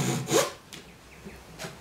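Japanese hand saw cutting a wooden joint for a kumiko coaster, a few short rasping strokes, close and moderately loud, with pauses between them.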